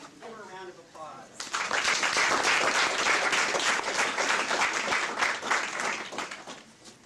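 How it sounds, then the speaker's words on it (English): A voice speaks briefly, then an audience breaks into loud, sustained applause that gradually tapers off. "Give her a round of applause."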